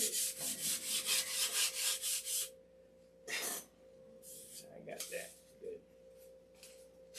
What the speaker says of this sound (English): We'll sand that with 180 though.